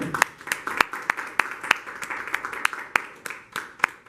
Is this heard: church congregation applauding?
yes